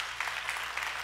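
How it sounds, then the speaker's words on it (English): Soft, steady applause from a church congregation during a Sunday service, a continuous low patter of many hands, fairly distant and even. "Let's give them a round of applause."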